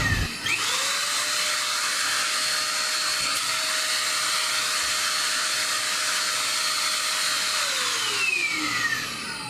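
An Eureka Forbes Trendy Zip 1000 watt vacuum cleaner starts up, runs with a loud, steady motor whine and airy rush, then winds down at the end, with no voices.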